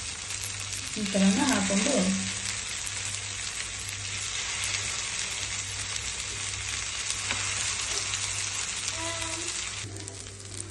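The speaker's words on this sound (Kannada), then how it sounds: "ನಾವು ಶೆಲ್ಲೋ ಫ್ರೈ ಮಾಡ್ಕೊತಿದ್ದೀವಿ." Cheese veggie aloo tikki shallow frying in oil, a steady broadband sizzle running throughout, with a brief louder burst of crackling near the start and a voice speaking briefly over it.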